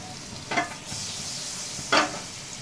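A sandwich sizzles in butter in a frying pan with a steady soft crackle, broken by two short scraping stirs of a spatula, close and fairly quiet with no voices.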